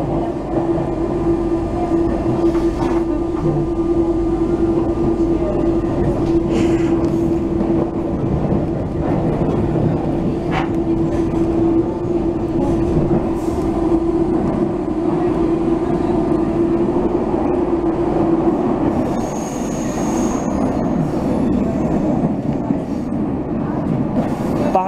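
A train pulls into Paris Gare du Nord station, with a steady loud rumble of the carriages and a sustained tonal whine running through most of the approach. A brief high tone comes near the end.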